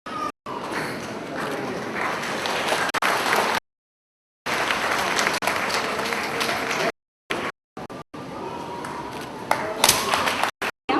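An audience at a junior kids fest breaks into rapid, dense clapping for a winner, filling the space in bursts separated by short gaps, with an announcer's voice over it.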